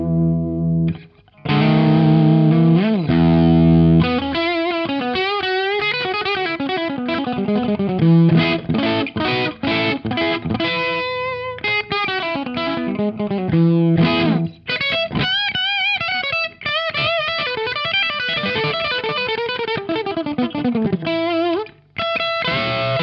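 Electric guitar played through a 1970 Carlsbro CS60 TC 60-watt valve amp on its harsh high channel, a continuous run of distorted melodic lines and chords, loud and close with brief pauses and no talking.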